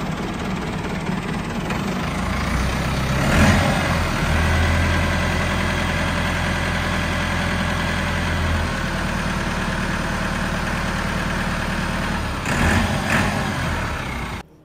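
A Massey Ferguson 385 tractor engine (England model) running close and loud, a deep steady diesel drone that rises when revved and holds for several seconds before settling back.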